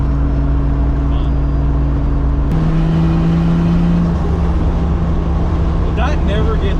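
A Toyota Supra engine revs with a steady, droning tone that shifts pitch partway through, close and loud, while people talk over it.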